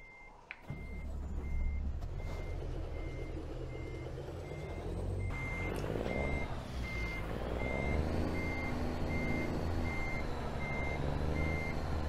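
A truck in American Truck Simulator reverses, its backup alarm beeping in a regular evenly spaced pattern over a low engine rumble, with a hiss of air brakes and engine revving partway through.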